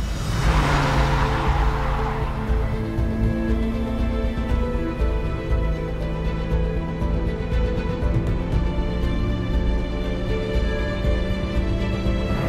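A Lotus Elise sports car drives along with a steady, fairly loud engine drone and road noise. A brief surge at the start settles into a continuous hum.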